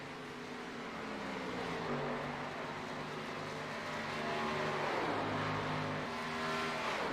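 Race cars roar around a track during a broadcast race, engines droning loud and continuous with pitch swells as cars pass and accelerate, no commentary audible over the noise.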